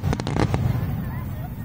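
Fireworks bursting at a large Japanese hanabi festival: a quick cluster of sharp, loud pops in the first half-second, followed by a low, steady rumble with people talking nearby.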